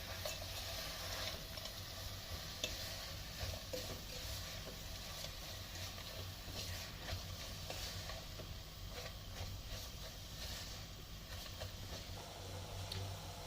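Sugar and walnuts are stirred together with softening cooking apples in a pan for an apple-filled cookie filling, a faint, continuous soft scraping and sizzling with no talk.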